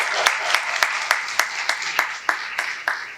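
Applause rings out at a Louisville, Kentucky event for a 93-year-old honoree, Miss Elder Lucille Allen, as a steady, rhythmic beat of claps about three per second over a wash of scattered clapping.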